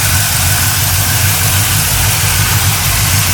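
A 1972 GMC Sierra Grande pickup's engine idles steadily and loudly up close, a low rumbling throb with no pauses, its first run after sitting nine years without an intake manifold.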